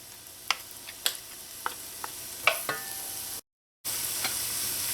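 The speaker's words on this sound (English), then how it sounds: "I just want this to saute until the vegetables in here soften" Onions, garlic and pepper saute in melted butter, a soft steady sizzle under scattered utensil scrapes and taps, close by, with a brief dropout before the sizzle resumes.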